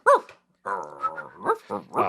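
A dog barks and growls in a short burst of several throaty yelps and woofs, fairly close and at moderate volume, with no talk.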